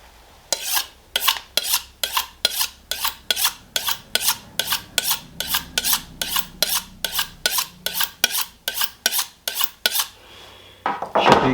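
Knife blade honed on a sharpening steel while butchering a whole top sirloin: about twenty-five quick, evenly spaced metallic rasping strokes in a steady rhythm, close and clear, with no talking over them.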